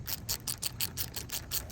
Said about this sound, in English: now you're going to go in a crisscross pattern and torque down this transmission pan